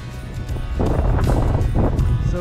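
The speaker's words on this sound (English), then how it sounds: "So it's cold and windy and they are blowing snow" Gusty, cold wind blowing snow roars into the microphone in rising and falling bursts, loud and close, with no voices.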